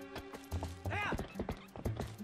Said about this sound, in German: Wir steigen mal auf Epona und schnappen uns diesen Affen